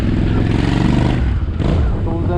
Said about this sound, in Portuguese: estou usando na moto um escapamento da JVK que eu comprei